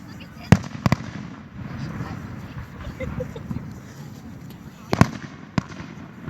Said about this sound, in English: Now that's a firework.